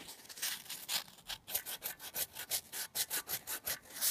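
A part on a passenger car by a stanchion is rubbed out by hand, with rhythmic back-and-forth rubbing strokes that grow more regular and rapid, close and moderately loud.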